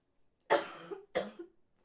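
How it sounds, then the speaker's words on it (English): A single person gives a loud, harsh cough, followed by two shorter coughs, against near silence. "Love starting off my stream with a big old cough."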